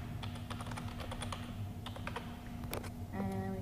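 Close, quick keyboard typing of a Wi-Fi password on a computer: irregular clusters of crisp key clicks over a steady electrical hum, ending with a brief tonal beep.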